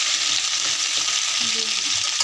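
Taro pieces fry in hot oil tempered with cumin seeds and bay leaves, giving a steady, loud, close sizzle that hisses evenly throughout with no talking.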